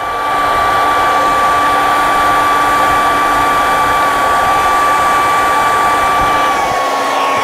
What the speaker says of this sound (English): I'm gonna heat this portion up and make it wrap around more